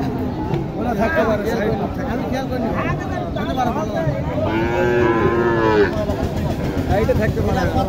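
A Sahiwal cow at a busy cattle market in Naogaon lets out a drawn-out moo over a steady hubbub of crowd chatter and nearby voices.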